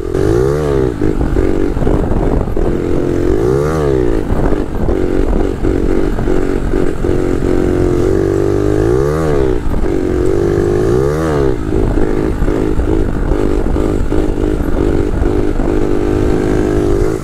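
A stock 72cc moped engine revs loudly and close by, its buzzing two-stroke note rising and falling in repeated throttle blips.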